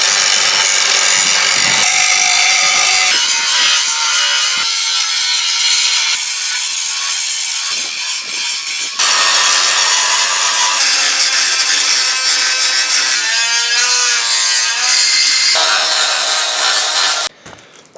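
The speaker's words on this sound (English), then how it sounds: "about 3 days worth of grinding to do on them" Grinder works steadily over welds on steel molds for pre-cast concrete bunker sections, a loud continuous harsh rasp with brief pauses and pitch shifts as the disc bites and lifts.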